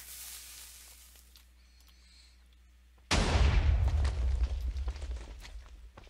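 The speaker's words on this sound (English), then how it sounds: "Just Load it up. Fire." A TNT cannon in the Minecraft video game fires: after a few seconds of quiet hiss, a sudden loud explosive boom breaks in and rumbles on with crackling debris, gradually fading.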